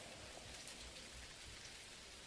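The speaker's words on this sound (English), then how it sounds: "it's raining" Steady rain falling, a dense even hiss of drops on surfaces, faint and continuous with no voices.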